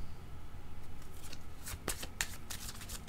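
Playing cards shuffled by hand for a tarot reading, a soft continuous riffle and rustle with a few sharper flicks and snaps toward the end, close and fairly quiet.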